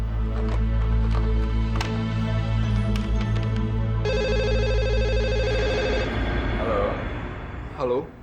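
A telephone ringback tone on an outgoing call, heard as steady electronic ringing under sustained background music, with a voice briefly near the end.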